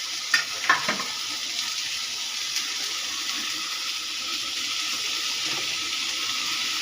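Sprouted moth beans drop into a hot pan with spices and start sizzling, a steady close frying hiss after a couple of soft knocks at the start, with no voices.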